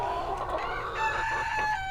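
Silkie chickens cluck and crow close by in a short burst of overlapping, nasal calls, one rising into a sustained high note, over a low background hum.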